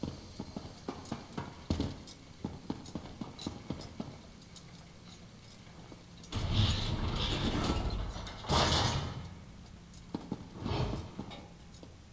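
Clockwork city machinery cranking and humming in a video game, irregular mechanical clicks and ratcheting knocks, then bursts of louder whirring and grinding in the second half.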